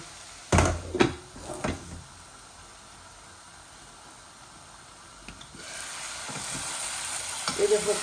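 Potatoes fry in a nonstick pan with a steady soft sizzle, broken by a few sharp clatters of stirring or utensil knocks early on and again near the end.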